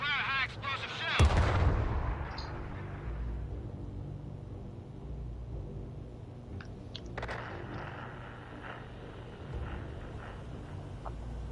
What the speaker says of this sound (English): Fire a high explosive shell.